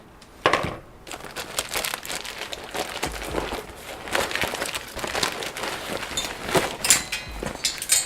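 Plastic bags crinkle and rustle continuously up close as items are handled and unpacked, with no talking.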